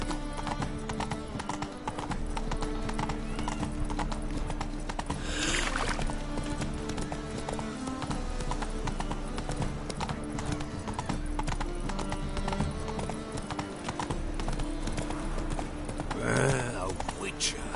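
Horse hooves clip-clop steadily throughout a ride in The Witcher 3, close and continuous, with game sound and a voice over them and an occasional whinny.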